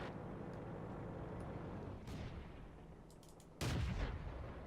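A Matilda Black Prince tank's short-barreled gun fires in World of Tanks: one loud, close, cracking boom near the end, after a fainter distant report and a constant engine rumble.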